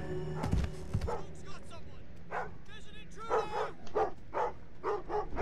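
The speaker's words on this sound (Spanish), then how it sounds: "El perro, puto perro." A guard dog in the stealth video game Thief (2014) barks and yips in a string of sharp, repeated bursts, fairly close, mixed with game sounds and some talk.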